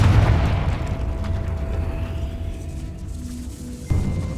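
A Confringo explosive spell blast from the video game Hogwarts Legacy, a loud booming burst at the start that rumbles and fades, with a second sharp impact near the end.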